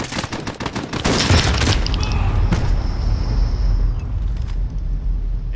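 A grenade blast in the Call of Duty: Modern Warfare game lands at about one second, a loud broadband boom that rolls into a long low rumble and dense, sustained battle noise with no speech.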